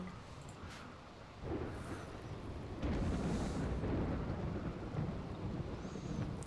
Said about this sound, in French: C'est la pluie.